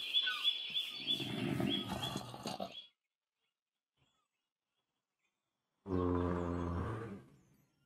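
Groaning zombies in a modded blocky survival game: two separate guttural moans, the first long and raspy, the second a shorter, deeper growl after a few seconds of silence, loud and close with no talk over them.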